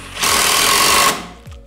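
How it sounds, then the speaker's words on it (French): A power screwdriver driving a screw in at an angle, a single whirring burst of about one second that starts and stops abruptly, loud and close, followed by a light knock. "Donc vous commencez à visser et vous inclinez votre vis."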